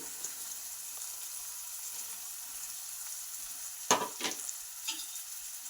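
Onions sizzle softly in a pan, a faint steady frying hiss with a few brief scraping stirs near the end.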